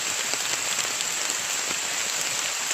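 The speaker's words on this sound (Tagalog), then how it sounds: "Napakalakas ng ulan dito." A dense, steady downpour of heavy rain drumming on surfaces, loud and constant with no pauses.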